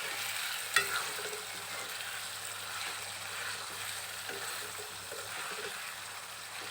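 Chicken gravy fries in oil in a pot, a low steady sizzle with a soft bubbling, and a sharp clink of a spoon near the start followed by scraping stirs, with no talking.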